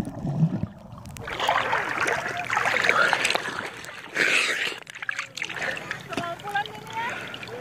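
Someone wades through knee-deep, shallow clear water at a Kaju Angin tourist spot in Southeast Sulawesi. Steady splashing and sloshing continues for several seconds, with a voice talking over it.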